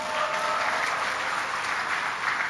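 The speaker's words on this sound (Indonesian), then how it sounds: "Kasih tepuk tangan buat Lampung." Dense, even applause fills a large hall at a gathering in Indonesia, a continuous wash of many hands clapping at once with no gaps and no voices.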